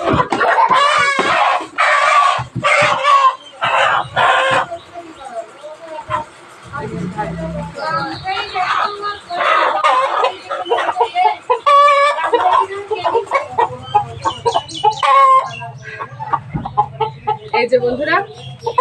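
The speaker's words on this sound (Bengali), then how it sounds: "টবের সবচেয়ে বড় মোরগটা কিন্তু এই।" A large desi rooster kept in a tub clucks and squawks in short repeated bursts close by, while people talk loudly over and between the calls.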